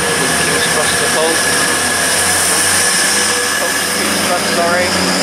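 Train noise at Grantham station on the London King's Cross to Hull service, a steady loud rumble with faint wheel squeal and rail tones throughout, under a station announcement voice.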